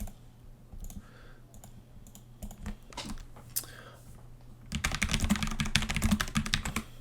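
Someone types on a computer keyboard up close, starting with scattered key taps and then breaking into a dense, fast burst of clicking keystrokes over a faint steady hum.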